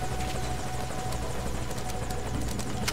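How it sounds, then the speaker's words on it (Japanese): Helicopter arriving in the stealth video game Metal Gear Solid V: Ground Zeroes, a steady close rotor thump and engine drone that fills the whole stretch at constant loudness, with no voices. "ヘリが来てくれましたと。"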